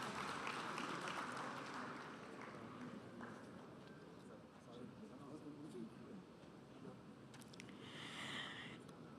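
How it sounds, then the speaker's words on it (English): An audience applauds to welcome guests on stage at the Invest Kerala Global Summit ceremony, a sustained dense wash of clapping that continues steadily throughout, with a voice speaking over it. "welcome everyone on stage with a loud round of applause"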